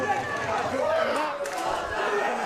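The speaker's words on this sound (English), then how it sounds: "You can hear the crowd there" Crowd cheering and shouting at a TFC world title fight featuring Darren Anstey, a loud continuous roar of voices filling the arena, with excited cries rising and falling.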